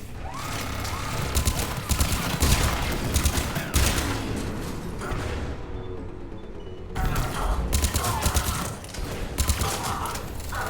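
Dense, sustained gunfire from the video game Mass Effect 3, rapid overlapping shots and thuds, loud and close, nearly continuous, with a short lull mid-clip before the firing picks up again.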